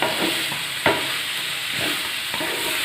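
A spoon stirs onions sautéing in a frying pan for a quail egg curry, a steady close sizzle with a few sharp scraping strokes against the pan.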